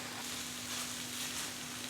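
Keema fries over a high flame, giving a quiet, steady sizzle with faint stirring, a low hum running underneath and no voices.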